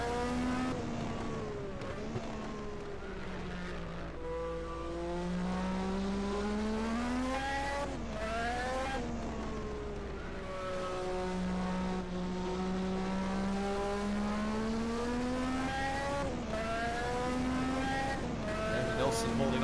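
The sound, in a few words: 1986 Formula 1 race cars, Ford-powered car and TAG-powered McLaren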